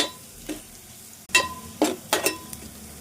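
Onions for egg curry sautéing in a pan, with a few soft scattered sizzles and stirring scrapes over a quiet background; no one speaks.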